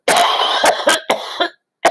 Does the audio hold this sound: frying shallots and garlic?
no